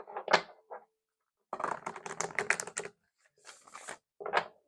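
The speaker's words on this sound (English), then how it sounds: "Let's do another shuffle" Playing cards are shuffled in quick, papery riffling bursts with short pauses in between, close and fairly quiet.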